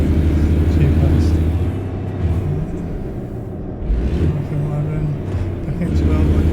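Heavy truck engine in American Truck Simulator rumbling loud and steady, its drone dipping and rising as the gears shift, with a voice talking over it throughout.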